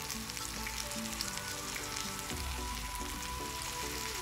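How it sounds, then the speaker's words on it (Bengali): Boiled noodles sizzle steadily in a hot pan with mixed vegetables and soy sauce for a vegetable egg chow mein, giving a continuous close frying crackle with no talking. "ভালোভাবে মিক্স করে নিয়ে সেদ্ধ করে রাখা নুডলসগুলো এখানে দিয়ে দিচ্ছি"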